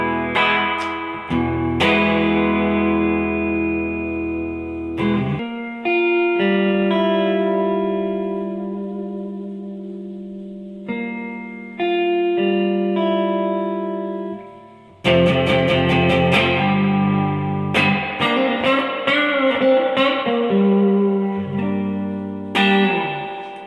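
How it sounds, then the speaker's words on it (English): Electric guitar on the clean channel of a Fender Hot Rod Deluxe amp with the reverb cranked up: chords and single notes ring out with long, washy tails that blur into each other, played alone without any talk. "Let me crank the reverb."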